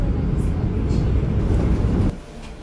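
A Seoul subway Line 9 train rolls into Magongnaru station with a loud, low rumble that cuts off abruptly near the end, leaving a quieter hum and faint voices.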